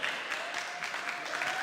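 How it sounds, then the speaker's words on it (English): At a 2025 NSL game between the Greenwich Panthers and the New York Knights, a crowd gives a brief, moderate round of clapping for the Panthers. "Round of applause for the Panthers."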